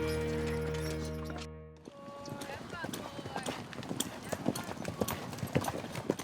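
A herd of horses driven in by wranglers at Paradise Ranch clatters past, a steady flurry of hoof clip-clops that follows a sustained tone, with a voice talking over it.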